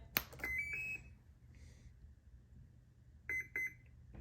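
Two short electronic beeps from a model jet's speed controller during throttle calibration sound close together near the end, preceded by a few earlier tones over a quiet background hum.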